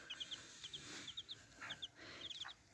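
Faint, high chirping peeps repeat in quick little bursts over a soft background hiss, like chicks or a broody hen calling nearby.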